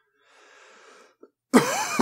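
A single loud, harsh cough into a close microphone, coming abruptly after a quiet stretch of faint background sound.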